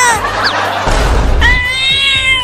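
Cats yowling in a comedy sketch, a loud close cat cry with sliding meow-like wails, followed by a rough scuffle and a long high-pitched screaming caterwaul.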